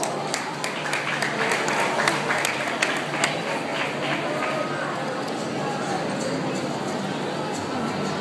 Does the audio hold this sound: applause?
yes